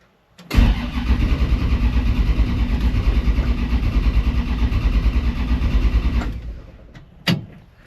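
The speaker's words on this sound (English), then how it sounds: "So hopefully we just turn the key, pump it a couple times, and it starts." A carbureted 1964 Plymouth big block cranks over for about six seconds, a loud rhythmic starter churn that cuts off without catching, followed by a brief clunk.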